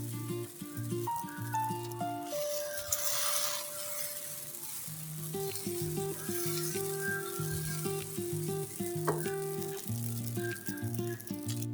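Egg and flour parathas fry in olive oil in a pan, giving a soft, steady sizzle that runs under background music throughout.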